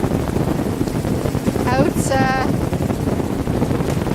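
A helicopter flies low over a shoreline during an eelgrass survey, its steady, loud rotor and engine rumble mixed with wind buffeting the microphone throughout, while a voice talks briefly partway through.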